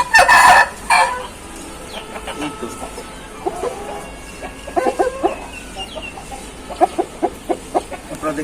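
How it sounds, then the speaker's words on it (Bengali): An Aseel rooster on a farm gives loud, close clucks and short crowing bursts in an irregular series, with people talking nearby. "দেখতে পাচ্ছেন এটা ছাওয়া মোরগ"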